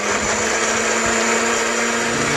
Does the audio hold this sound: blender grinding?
yes